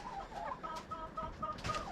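A Brakel chicken, a Brahma cross, clucks softly in short, repeated bursts, fairly close, with faint background noise.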